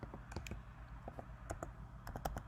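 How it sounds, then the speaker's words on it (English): A search word being typed on a computer keyboard, a short run of faint, close key clicks in small irregular bursts, with no talk. "I'm just going to type in here fitness"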